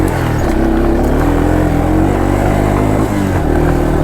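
A 1983 Yamaha Tri-Moto 200 three-wheeler runs at full throttle with a slight bog, giving a loud, steady, buzzing single-cylinder drone close to the microphone that wavers a little in pitch.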